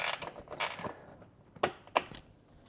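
Screw being driven into the kick panel of a Miele G6620SCi dishwasher, a few soft mechanical creaks and clicks, with two sharper ratcheting ticks near the end, close and quiet with no talk.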